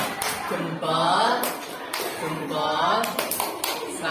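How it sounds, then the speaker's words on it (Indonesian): A classroom group does the tepuk salut, a rhythmic clapping cheer with sharp, evenly spaced claps mixed with chanting voices, close and lively. "Iya, beri tepuk salut."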